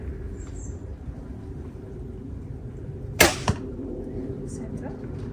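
An arrow is loosed from a SiCai bow made by AF Archery, a sharp snap followed by a second short knock, outdoors over a steady low rumble of distant airplanes.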